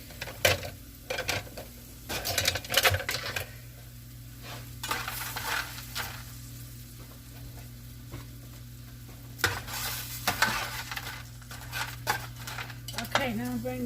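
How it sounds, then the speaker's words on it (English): Seasoned ingredients stir-frying in a pan for a chuck pot roast, gentle sizzle beneath repeated close scraping and clinking strokes of a utensil against the pan, coming in bursts with quieter gaps. "Let that stir fry real well."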